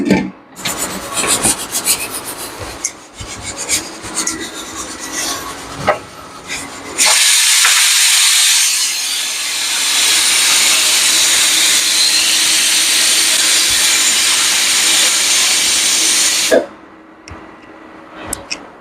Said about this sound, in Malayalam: ഒറ്റ വിസിൽ വരുമ്പോൾ ഓഫാക്കണം